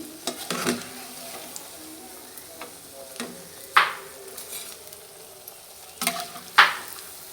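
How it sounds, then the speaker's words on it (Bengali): Steady frying sizzle as potato chops fry in hot oil, broken by a few sharp clinks and scrapes of a utensil against the pan. "আমি আলুর চপ ভেজে নিচ্ছি"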